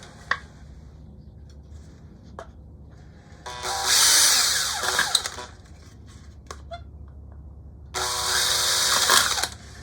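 Two bursts of a power drill grinding through an aluminum tin, separated by quiet handling noises and small clicks.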